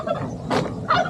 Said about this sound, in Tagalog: Uy, pabo.